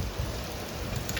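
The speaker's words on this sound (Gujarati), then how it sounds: "કેટલો વરસાદ છે." Heavy rain pours down as a dense, unbroken hiss with a low patter underneath. The burst is brief, and no voices are heard.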